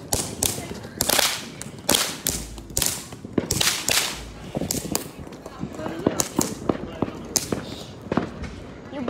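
Fountain fireworks go off outdoors at night, giving a run of sharp crackling bursts and pops at irregular intervals, fairly loud and close. People talk between the bangs.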